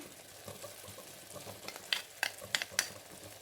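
Spiced vada curry gently sizzling in a pan, with a few sharp spoon clinks and scrapes toward the end as it is stirred, quiet and close.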